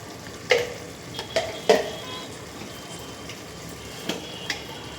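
Chicken with biryani masala powder is stirred in a pot, giving a low simmering sizzle with a few sharp scraping clinks of the spoon against the metal, scattered irregularly.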